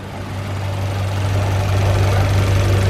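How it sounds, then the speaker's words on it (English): Close, steady idle of a Honda B16 swapped engine running slightly too low, a deep even rumble with a faint knocking pulse, gradually swelling a little louder. "I really need to adjust the idle, so I'm gonna do that right now. The idle's too low."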